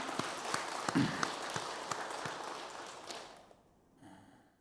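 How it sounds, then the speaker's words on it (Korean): A church congregation at a Sunday worship service claps for several seconds, with a steady patter of hands and a few louder individual claps, then the applause dies away into near silence. "우리 감사의 박수 드리겠습니다"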